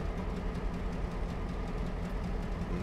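A diesel locomotive from a train simulator game in an Alaska setting idles with a steady, dense low rumble and broad mechanical noise, constant and loud throughout without speech.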